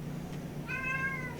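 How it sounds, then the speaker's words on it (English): A house cat gives a single short meow, fairly faint and close, over quiet room tone with no talking. "Oh no, now here's the other cat."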